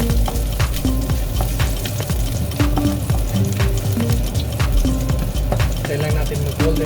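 Garlic sautéing in a pan for Bicol Express, a steady close sizzle and crackle of frying with occasional stirring scrapes throughout.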